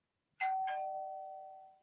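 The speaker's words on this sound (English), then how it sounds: "That's Bell's Bell." A single doorbell-style chime, two quick struck tones at the start followed by a clear ringing note that decays slowly, close and alone with no talking.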